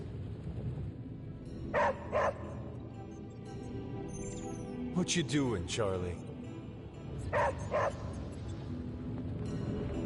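A dog in the Midnight Suns video game gives several short, high barks and yips in pairs, spaced across the stretch, with a whining squeal in the middle. Someone talks quietly under them.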